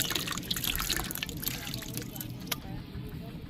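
Water poured and swirled to dissolve tamarind for a stingray fish curry cooked outdoors in the forest, a soft liquid trickle and splash under steady background noise.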